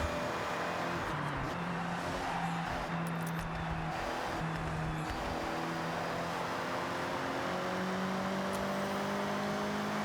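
Mazda Miata engine from the Forza Horizon 6 racing game, revving and shifting through gears with a steady, moderately loud drone and rising tones, heard alone with no talking.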